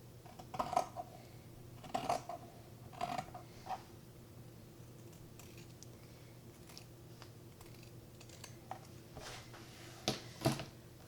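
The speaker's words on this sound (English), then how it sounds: "This is my line, so I am going to cut right here." Scissors cutting fabric along a marked line for an adjustable headband, close and quiet, with a few separate snips and creaks in short bursts and long pauses between them, no talk.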